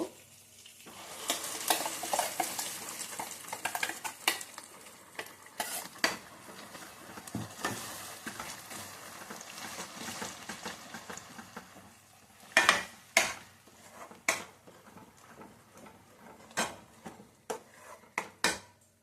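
Ground masala paste frying in a pan while a utensil stirs and scrapes it, soft crackling sizzle under sharp irregular clinks and knocks against the metal, close by with no talking.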